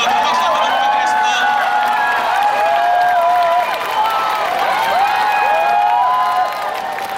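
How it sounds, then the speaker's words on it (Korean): Crowd cheering and applause with whoops at the 2019 Busan Summer Match, a Korean pro volleyball event, as the teams enter; the noise is loud and sustained throughout, with an announcer's voice amid the crowd. "큰 박수 한번 부탁드리겠습니다"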